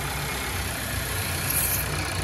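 A warm 1.5 Evo car engine idling at low revs, a steady low hum heard up close and fairly faint, with no one talking.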